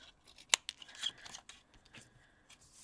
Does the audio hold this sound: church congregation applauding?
no